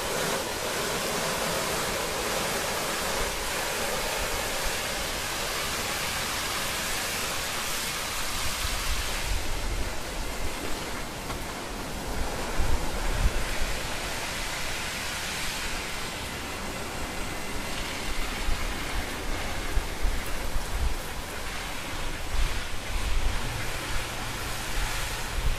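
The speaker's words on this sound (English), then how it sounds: "now we're gonna go ahead and rinse it" A hose sprays water onto an air conditioner condenser coil, a steady broad hiss and splatter that grows rougher and more splashy partway through, continuous and close with no talk.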